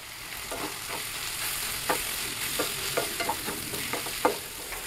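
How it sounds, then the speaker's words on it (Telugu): Brinjal (vankai) fry with chili powder and ginger garlic paste is stirred in a pan, giving a run of irregular spoon scrapes and clicks over a low, steady sizzle, close up and with no talking. "అల్లం వెల్లుల్లి పేస్ట్ కూడా కొద్దిగా కలిసేలా కలుపుకొని మూత పెట్టుకున్నాను"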